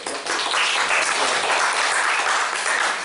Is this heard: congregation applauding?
yes